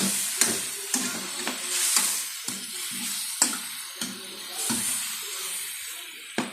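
Squid frying in a pan is stirred with repeated scraping strokes over a steady sizzle, the utensil knocks falling in an uneven rhythm close by, with no voices.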